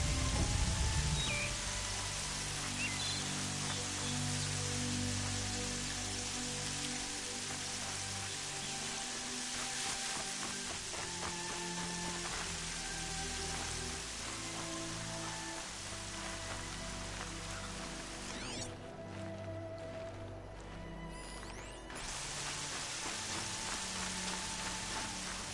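Steady rain in Horizon Zero Dawn falls as a continuous broadband hiss across the whole stretch, loud and even, with a sustained musical drone underneath and a brief dip in the texture near the end.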